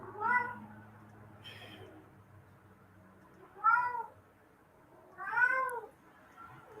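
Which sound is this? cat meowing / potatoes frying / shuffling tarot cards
cat meowing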